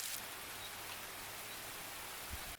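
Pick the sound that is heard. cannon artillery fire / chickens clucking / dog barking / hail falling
hail falling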